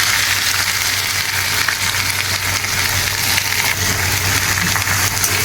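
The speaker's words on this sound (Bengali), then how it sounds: "প্রথমে আমি পেঁয়াজ কুচিগুলোকে ভেজে নেব।" Chopped onions fry in hot oil with whole cumin in a pan for a paneer chana masala, giving a loud, steady, close-up sizzle and crackle that never lets up.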